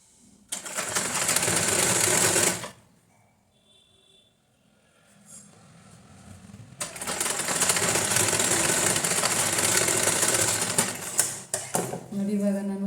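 A sewing machine stitches blouse lining in two long bursts of rapid, close mechanical clatter separated by a quiet pause with a few small handling sounds.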